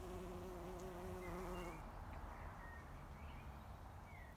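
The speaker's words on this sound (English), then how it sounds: "There's a bee." A bee buzzes faintly around lilac-coloured lamb's ears flowers in a garden after rain, a soft wavering hum over quiet outdoor background noise, with no talking.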